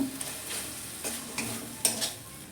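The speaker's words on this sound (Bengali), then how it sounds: "আদা দিলাম আদাটা একটু কষে নেব" Ginger and tomato fry in a pan with a steady close sizzle, broken by a few short scraping stirs.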